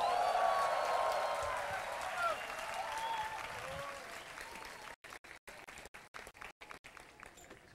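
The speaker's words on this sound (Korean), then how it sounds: "장로님이 나오실 때 큰 박수로 환영해 주시기 바랍니다." Audience applause welcoming a speaker at an outdoor Christian summer retreat held in the rain. The dense clapping starts loud and gradually fades, then breaks up into choppy, interrupted bursts near the end.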